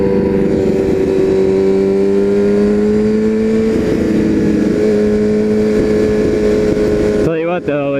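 A motorcycle engine hums at a steady, close, loud pitch during a ride, with wind rush underneath, small shifts in pitch midway and an abrupt drop near the end.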